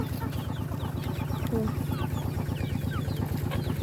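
Chickens cluck in a rural Thai setting with a steady stream of soft, close clucks and chirps. A continuous low rhythmic mechanical pulsing runs underneath throughout.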